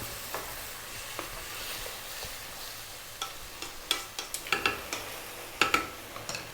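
Chicken and tofu stir-frying in a pan, a soft steady sizzle broken by irregular scraping and clacking of a utensil tossing the food, growing busier toward the end.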